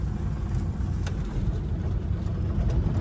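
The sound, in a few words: four-wheeler car engine while driving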